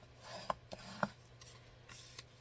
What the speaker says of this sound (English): So you want to burnish this really well.